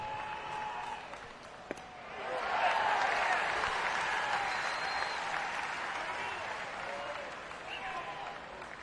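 Baseball crowd at a 2019 NCAA tournament game between TCU and Arkansas rises into sustained applause and cheering after about two seconds, a broad steady roar that holds to the end, with a voice talking underneath.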